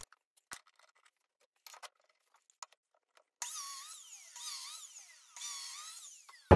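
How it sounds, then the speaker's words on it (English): A biscuit joiner cuts slots into wood parts for a lectern, a series of high, whining cuts with rising and falling pitch over the last few seconds after scattered light clicks and handling. "I'm going to cut my biscuits in before I cut the mortise out for the top"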